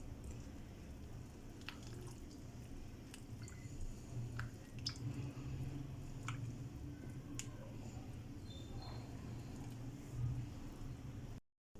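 Red velvet cake batter with buttermilk being mixed in a bowl, giving faint, soft wet squishing and occasional light clicks of the utensil against the bowl, quiet and continuous throughout.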